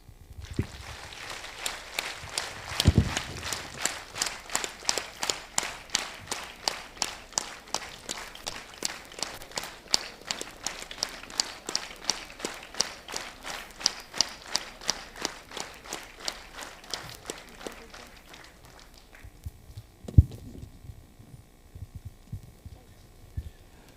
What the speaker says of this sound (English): I request the audience to welcome them with a clap.